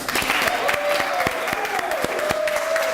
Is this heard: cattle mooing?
no